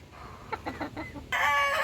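A large young gamecock (stag) gives a quick series of soft clucks, then a louder crowing call starts abruptly at the end.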